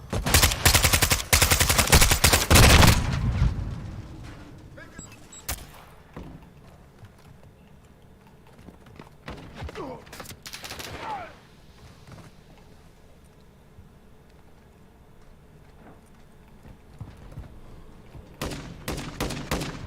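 Call of Duty Modern Warfare II team deathmatch combat: a loud burst of rapid gunfire opens the scene, then scattered shots and bangs recur at a lower level, with a grenade-like burst and heavy fire returning near the end.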